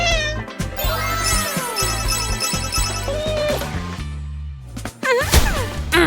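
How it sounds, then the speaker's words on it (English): Cartoon cats meowing in a playful animated setting, several bright, pitched meows and wavering cries over busy music with chimes and a crash near the end. "Okay, it's time for the kitties to see their new home."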